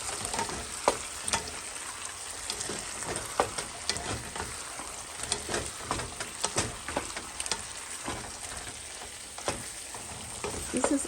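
Shrimp and broccoli fry in a pan on a stovetop, a continuous crackling sizzle broken by clattering stirs and tosses, close and steady, with no talk.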